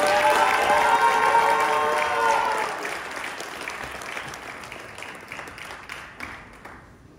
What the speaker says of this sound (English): big round of applause for Maya